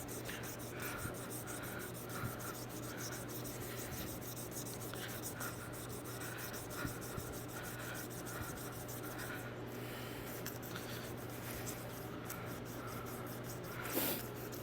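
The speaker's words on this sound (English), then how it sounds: "I'd be hand sanding it wet, just like this." A knife handle is hand-sanded wet, giving a soft, continuous rubbing and scraping that is faint and close, with no talking.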